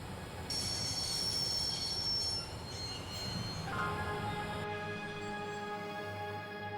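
A train in Broken Sword Reforged grinds to a halt, its wheels letting out a long, high metallic squeal over a low rumble before a steady tonal whine settles in.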